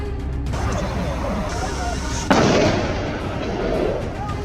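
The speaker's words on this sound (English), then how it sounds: "Following the sharp crack of gunfire, the fleeing targets were brought down with supremely accurate shots." A single sharp gunshot cracks out during a wild hog hunt in snowy Alaskan forest, a loud sudden burst midway that trails off, set against a low, steady background.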